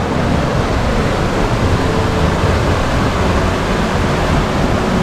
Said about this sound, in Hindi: पानी का साउंड आप सुन सकते हैं।